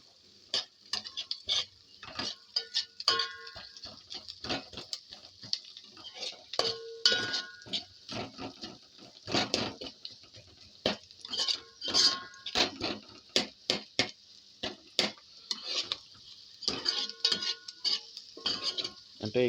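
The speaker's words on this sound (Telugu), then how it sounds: "ఒక 10 నిమిషాలు ఉల్లిపాయలు వేగితే ఫస్ట్ ఆయిల్ వేసాం, తాలింపులు, పచ్చిమిరకాయలు, చిన్న ఉల్లిపాయలు, ఉల్లిపాయలు ఇప్పుడు ఇవన్నీ వేసామండి." Onions, small onions and green chillies fry in oil in a pan, with a steady sizzle throughout and repeated clinks and scrapes of a spoon stirring against the metal, close and fairly loud.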